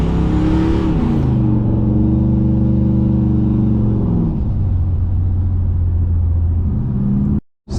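Turbocharged GMC truck engine pulling a heavy load, a loud close rumble with rising and falling harmonic tones as it accelerates and shifts, then a steady lower drone before a brief dropout at the end.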